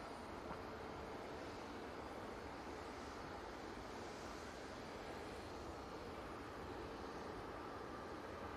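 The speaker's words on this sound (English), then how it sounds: "It's Logan Air coming in from Aberdeen using the ERJ 145 with a flight time of 50 minutes." A Loganair Embraer ERJ 145 jet arriving at Manchester Airport gives off a steady, far-off broadband roar that holds at an even level throughout, with no voices.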